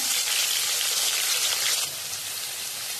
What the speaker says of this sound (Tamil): அதே கடையில் எண்ணெய் கொஞ்சம் சேர்த்துட்டு தக்காளி வதக்கிக்கோங்க